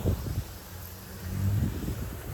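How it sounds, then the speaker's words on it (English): Wind gusts buffet a microphone outdoors in a yard during a fall sprinkler check, a low rumbling roar that swells louder toward the middle and stays steady, with no talking. "It's kind of windy right now"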